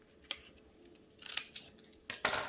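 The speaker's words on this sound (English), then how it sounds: "Take your scissors and follow the lines that you've already made." Scissors snip through a paper card in short crisp cuts, one brief snip followed by two louder bursts of cutting, close by in an otherwise quiet room.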